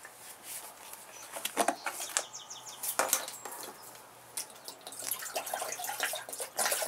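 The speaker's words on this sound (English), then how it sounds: "I'm just going to fill this full of water." Water runs from a tap into a pot, a faint splashing stream with irregular surges and gurgles, fairly quiet and alone without talk.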